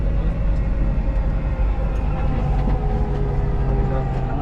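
A Dubai Metro train runs between stations toward Expo 2020, giving a steady, loud, continuous interior rumble and rail hum with a faint whine on top, with no clear breaks.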